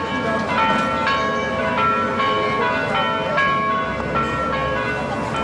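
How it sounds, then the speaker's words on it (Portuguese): A church bell rings repeatedly at a slow, even pace, clear and resonant over busy traffic and street noise in the Santana district of São Paulo. "de tal maneira que você ouve o sino, mas não vê a igreja"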